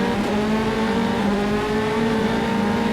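A Formula 3 race car in Automobilista powers out of a corner at Jerez, its high engine note climbing loud and close with a steady whine, other cars droning faintly behind.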